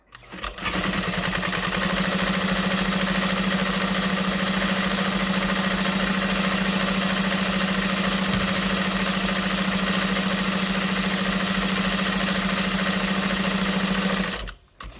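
A sewing machine runs nonstop while stitching the straps of a tote bag, a loud steady mechanical whir and hum that spins up, holds for about fourteen seconds and stops.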